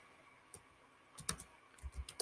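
Keys are tapped on a computer keyboard while a subtitle is typed, in scattered quiet clicks and short bursts against low background hiss.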